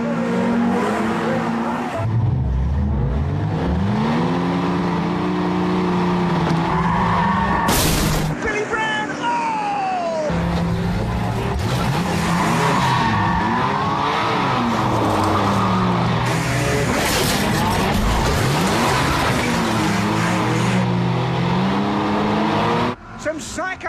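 Banger racing cars on a British oval track, engines roaring as tyres squeal and skid through long slides, with a sharp crash impact midway and excited commentary over the loud, continuous racing noise.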